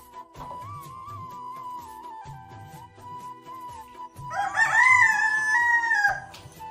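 A rooster crows loudly once near the end, standing out over a steady hum and quiet rhythmic background noise.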